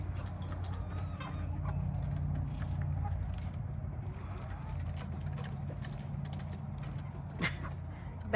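Backyard chickens cluck softly while pecking at a cabbage hung on a rope, close and continuous over a steady insect-like hum, with one brief sharper sound near the end and no clear speech.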